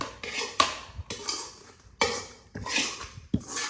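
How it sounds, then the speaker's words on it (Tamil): A metal ladle stirs and scrapes food around in a cooking pan, making sharp clanking and scraping strokes in an uneven rhythm, close and clear with no talking. "அந்த கரண்டி வச்சுட்டு இதுல கிளறிடுங்க"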